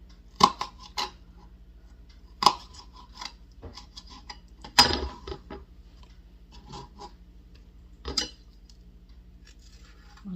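A slightly dull kitchen knife chops vegetables for a black-eyed pea salad, giving a handful of sharp, close chopping strokes at irregular intervals with quiet gaps between them and no talking.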